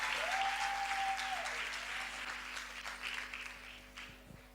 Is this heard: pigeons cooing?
no